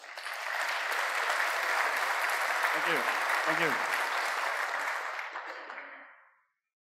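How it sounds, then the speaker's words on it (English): A conference audience gives a warm round of applause to a speaker presenting on hacking a connected car, the clapping full and sustained before tapering off, with someone briefly saying thanks over it. "Give a round of applause for Daan, please."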